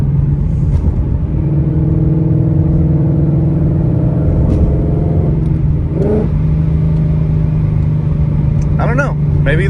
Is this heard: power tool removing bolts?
no